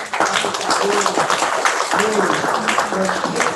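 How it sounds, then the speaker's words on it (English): An audience claps at a construction internship program event, making a dense, steady wash of applause. A voice talks over it throughout. "Another round of applause."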